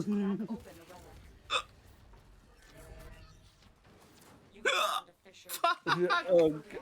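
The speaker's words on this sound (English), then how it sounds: "I honestly do have the hiccups." Hiccups from a streamer during a co-op game session, a few short sharp catches breaking through stretches of conversation, near and fairly loud.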